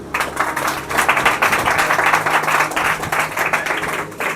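A church congregation claps for the Lord during a sermon, a dense, steady stretch of many hands clapping together that carries on throughout at a fairly loud, even level.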